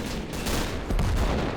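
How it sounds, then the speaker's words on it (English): Rapid gunfire and explosions crackle through a Men of War: Assault Squad 2 tank battle featuring a Soviet Su-100, a dense, continuous volley of shots and booms at steady loudness with no talk. "Oh, I love hearing those explosions."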